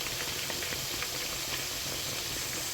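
Buttermilk-battered chicken fries in a deep fryer, oil bubbling and sizzling steadily in a dense, continuous hiss with faint popping, no voices.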